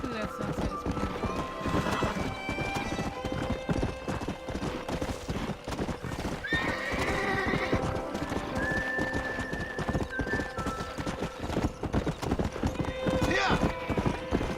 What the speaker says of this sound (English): You have broken the Kentucky Saddler, a rare and agile horse.